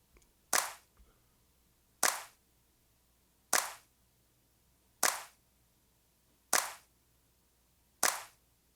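Six sharp, punchy compressed 808 and clap drum samples land at an even, slow pace, each a crisp clap-like snap with a short decay, separated by near silence.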